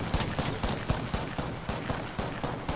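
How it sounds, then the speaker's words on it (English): Rapid gunfire from a player shooting in a video game, a dense rhythmic stream of shots that stays loud and close throughout. "why are you shooting me on the floor?"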